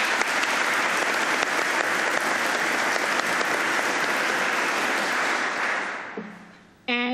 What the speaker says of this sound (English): I'm going to ask you to hold your applause so we can get through the list